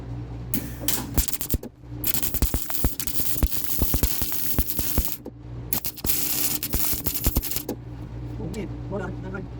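Welding on a Snapper mower bagger by an inexperienced welder: a loud, close, steady crackling and sizzling arc. It runs in long bursts with brief pauses, then stops near the end.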